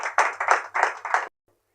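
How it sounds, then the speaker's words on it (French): A small group claps in a few short bursts of cheering applause at an orphanage ceremony, four quick rhythmic clusters close by, then abrupt silence. "sous les acclamations bien sûr"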